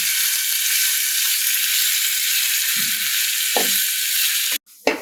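Onions and masala frying on high flame for a Gujarati cabbage and masoor dal, a loud continuous sizzle close up, dotted with soft knocks and scrapes of stirring and a sharp clunk near the end.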